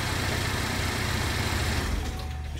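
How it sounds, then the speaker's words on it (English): A 2016 Chevy Equinox engine idles close by, a steady low hum with a faint mechanical whir, even and continuous before easing slightly softer near the end. "Very quiet engine."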